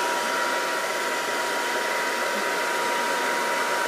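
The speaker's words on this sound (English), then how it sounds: "We're going to stick it in the air curler. And we're going to turn the air curler on medium heat." An air curler runs on medium heat with a steady, loud blowing whoosh that stays constant throughout, much like a hair dryer, with no voices over it.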